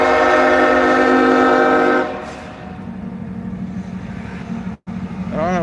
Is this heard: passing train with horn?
yes